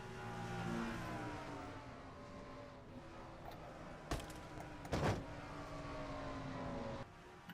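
Chevrolet stock cars race in a Mello Yello racing series video game, the GM Goodwrench Service 200, with a steady, loud engine drone that rises and falls, broken by a couple of sharp bangs near the end.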